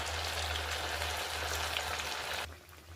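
Mango pieces fry steadily in oil in a kadai over low heat, a dense continuous sizzle that drops off sharply near the end, with no one talking.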